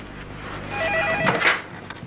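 A phone rings with short electronic trilling tones, followed by a brief noisy rustle; no talking.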